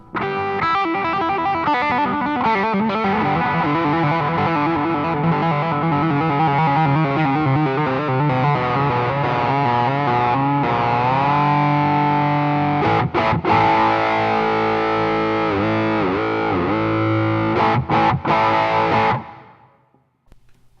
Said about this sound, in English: See, I'm really digging that tone.